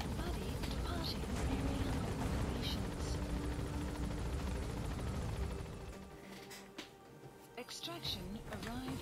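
Dense, steady helicopter rotor roar with a throbbing low drone fills most of the clip, dropping away briefly near the end before returning; loud game audio from Metal Gear Solid V.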